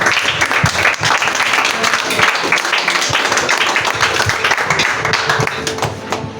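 A church congregation claps and cheers during a joyful worship service, dense sustained applause with rhythmic hand claps, loud and close throughout with a few voices mixed in.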